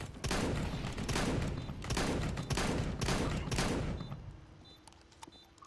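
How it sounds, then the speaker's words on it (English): Rapid bursts of video game gunfire, several volleys of loud automatic shots in quick succession that stop abruptly and leave quiet room tone. "We got gunfire."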